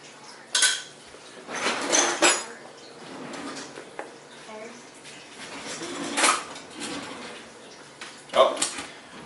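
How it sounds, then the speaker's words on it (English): A baking spatula scrapes out a bowl of peanut butter raisin granola mixture in a home kitchen, giving several uneven rasping strokes and light knocks against the bowl, close and moderately loud. "I'm going to make sure it's all scraped out"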